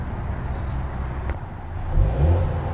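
A 2025 MINI John Cooper Works Hardtop 2 Door's exhaust rumbles at a steady idle close by, with a brief swell in the low throb near the end.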